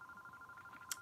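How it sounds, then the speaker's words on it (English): A telephone rings indoors in a crochet and yarn setting: a faint, steady electronic tone held for the whole second, with a brief brighter click near the end. "Pardon the phone. It's in here and it's ringing."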